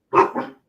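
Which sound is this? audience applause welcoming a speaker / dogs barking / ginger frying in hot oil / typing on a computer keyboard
dogs barking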